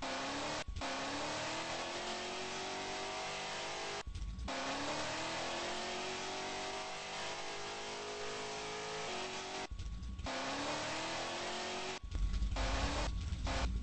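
A video game car engine climbs steadily in pitch, revving up through the gears with brief drops at each shift, loud and close, with no talk over it.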